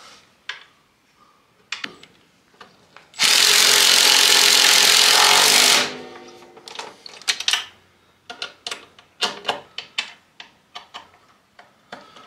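A power tool cuts snowmobile parts in one loud burst of about three seconds, surrounded by sharp clicks and clattering handling noises.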